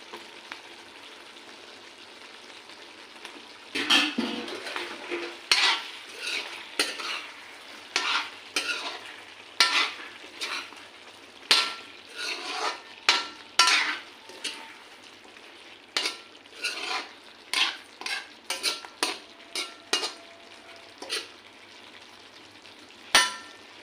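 Potatoes stirred in a pan frying with chicken for a local Assamese dish, a steady sizzle under repeated scraping and clinking of a utensil against the pan in irregular bursts, close and alone.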